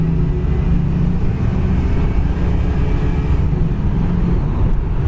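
A 1980 Pontiac Formula with a small block V8 and automatic transmission roars steadily, a loud, dense low rumble held without a break, close to the microphone.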